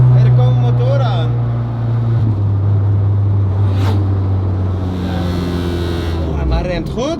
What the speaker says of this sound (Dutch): Hé, er komen motoren aan.